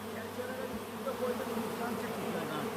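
A swarm of bees hums in a steady, continuous drone around a man dancing among them, close and even, with a faint voice now and then underneath.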